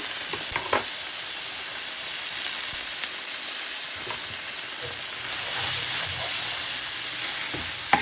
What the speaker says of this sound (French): Je mets encore un morceau de beurre, c'est du beurre salé.